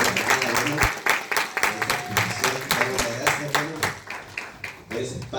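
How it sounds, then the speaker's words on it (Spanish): A workshop audience in Chile applauds, a dense spread of clapping under a speaking voice that carries over the claps, moderately loud and close. "Le damos un fuerte aplauso"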